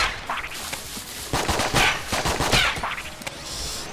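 An electric weapon in the video game Enter the Gungeon fires in rapid crackling, zapping bursts. The blasts come in dense clusters over a continuous layer of game noise, with no voices.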